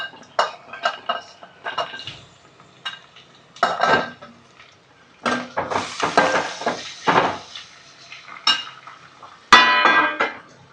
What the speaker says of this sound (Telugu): ఈ వెజిటేబుల్స్ వేగుతూ ఉంటాయండి.